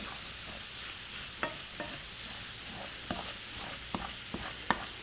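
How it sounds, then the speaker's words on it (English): Italian sausage browns in a pan, with a low steady sizzle broken by sharp scraping and clacking strokes of a stirring spoon every second or so, heard up close with no voices. "we're almost finished with the browning of the Italian sausage"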